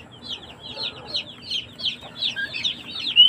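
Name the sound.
Rhode Island chicks chirping inside an incubator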